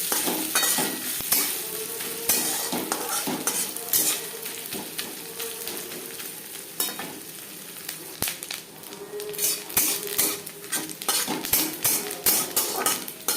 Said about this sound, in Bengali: নারকেল লালচে করে ভেজে নেব